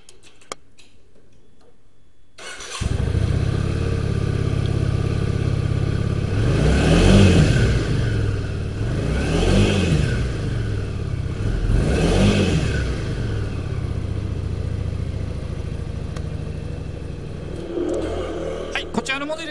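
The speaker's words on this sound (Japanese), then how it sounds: "エンジンの方始動していきたいと思います" A black Yamaha Drag Star 400 Classic motorcycle (VH02J) starts abruptly after quiet, then settles into a steady idle with three rising-and-falling revs, close and loud throughout.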